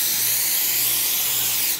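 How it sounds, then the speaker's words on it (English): Coconut oil cooking spray is sprayed into a baking pan for scones: one steady, close pressurized hiss lasting almost two seconds, then cutting off abruptly, with no talk over it. "So what I do, I just take and spray, just a little bit of spray."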